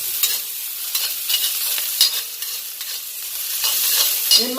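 Onions frying and being stirred in a pan for a snack dish, with a steady close sizzle and repeated scraping stir strokes throughout, no voices.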